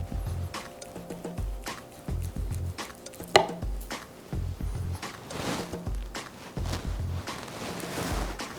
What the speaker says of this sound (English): Continue to trim some of this down.